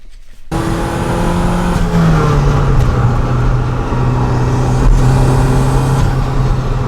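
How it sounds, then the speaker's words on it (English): A turbocharged Toyota MR2 engine starts up and holds a loud, steady drone under boost with a wastegate overridden, its pitch slowly rising and falling as the revs change; no voices. "it's hitting 4 pounds of boost now that we have that little wastegate thing kind of overrode"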